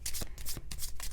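Oracle and tarot cards are shuffled in quick, rhythmic bursts of crisp riffling, several close, sharp flutters packed into about a second.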